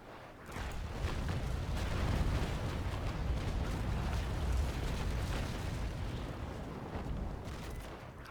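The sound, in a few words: ship cannon broadside firing in video game Naval Action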